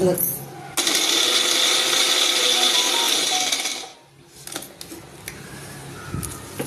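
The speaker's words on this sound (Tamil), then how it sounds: "பாருங்க, நல்லா அரைச்சிருச்சு பாருங்க" Kitchen mixer grinder running on a small quantity of chutney, a loud, steady high-pitched whir for about three seconds that then cuts off, followed by lighter handling clatter and a voice talking.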